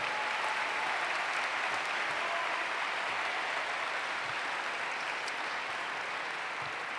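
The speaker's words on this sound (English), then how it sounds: "Now you applaud." Audience applause at a sarcoma foundation gala, a continuous even roar of many hands clapping in a large room, sustained without a break and slightly distant.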